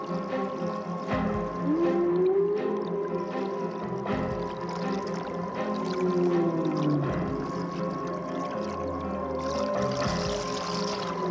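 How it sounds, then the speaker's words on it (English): Long, gliding whale calls rise and fall slowly over a steady underwater wash, with a low rumble joining near the end. "hypnotized by the song of the whales"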